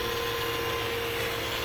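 Power buffer working over the hull of a sailboat out of the water, a steady, close whirring drone with a faint tonal hum that holds unbroken throughout.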